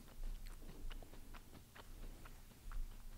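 Someone chews snacks right up against the microphone, producing soft, close crunching and smacking bites at an irregular rhythm, faint and alone without speech.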